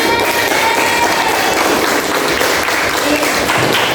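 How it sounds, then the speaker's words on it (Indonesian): Applause in an Indonesian school classroom, a dense, steady wash of many hands clapping at close range for the full length, with children's voices mixed in. "Tepuk tangan."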